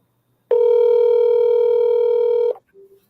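A single steady ringback tone on an outgoing phone call, about two seconds long, clear and alone, then silence.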